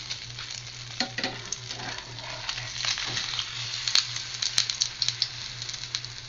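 Food sizzles and fries in a pan, a steady crackling hiss with scattered pops and stirring clatter close by.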